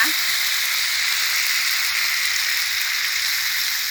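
Squid stir-fries with red curry paste and sweet peppers in a hot pan, giving a loud, steady sizzle that hisses close up and without pause from start to finish.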